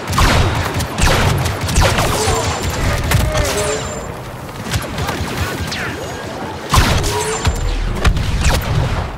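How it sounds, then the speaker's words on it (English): Blaster fire in Star Wars Battlefront 2 on the Scarif map, with repeated sharp shots and bursts in a busy, noisy battle mix. A sudden louder volley comes near the end. "I shoot him, but I miss!"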